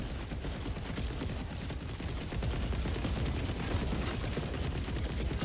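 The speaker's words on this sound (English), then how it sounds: "Okay, I can just Gatling you as a treat." A Gatling gun fires in the video game Helldivers 2, a dense, continuous rattle of rapid shots that sits steady and loud throughout, with no speech.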